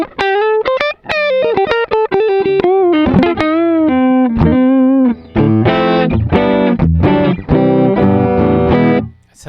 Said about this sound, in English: let's say I just want that clean, jangly AC15 Vox sound